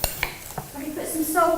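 A spoon clinks and scrapes against a bowl while mixing meatloaf mixture of ground meat, breadcrumbs and egg, a few sharp taps followed by softer stirring, with faint voices nearby.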